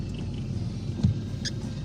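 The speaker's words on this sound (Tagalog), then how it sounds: "Tibay ng tricycle." A motorized tricycle drives through brown flood water, a steady low engine rumble with a brief thump of water or bodywork midway, no talk.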